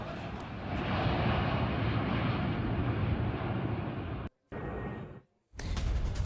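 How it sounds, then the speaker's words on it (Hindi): A Chinese cargo plane arriving in Iran gives off a steady, loud aircraft engine roar, broken by two brief silent gaps, with no voices. "चीन का कार्गो विमान ईरान पहुंच गया है।"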